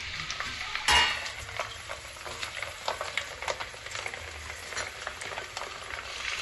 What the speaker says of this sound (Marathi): बघा निम्मे तेल ठेवायचं आणि त्यामध्ये लसूण टाकायचा.